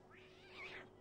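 A small cat in the 1999 PS1 game Mulan lets out a single short, faint meow over a low background hum.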